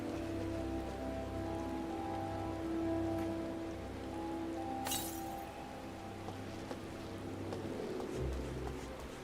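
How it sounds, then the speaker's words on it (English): Steady rain patters in a Final Fantasy XIV game scene, a continuous soft hiss with faint droplet ticks and a sharp splash near the middle, steady background tones underneath. "And it's raining, everybody. It's raining."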